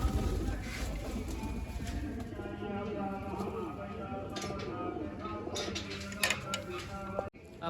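Domestic pigeons coo close by in a soft, repeated rumbling stream that runs through most of the stretch, with people talking nearby.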